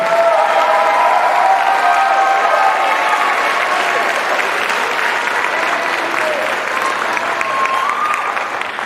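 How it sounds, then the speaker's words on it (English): Sustained audience applause at a middle college graduation ceremony, dense and steady throughout with a few cheers rising from the crowd, loud and close. "Let's give him a final round of applause again."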